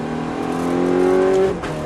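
A car engine revs up, its pitch rising steadily for over a second before the throttle drops off abruptly.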